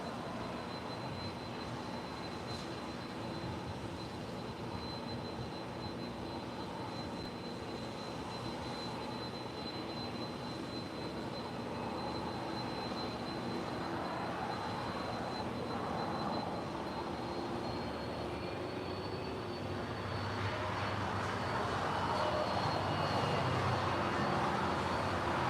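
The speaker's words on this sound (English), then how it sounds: "it's Qantas A330 heading to Brisbane, Flight 56, starting her taxi" A Qantas Airbus A330 taxiing at Los Angeles International Airport, heard as a steady distant jet-engine rumble and whine that slowly swells louder toward the end, with no voices.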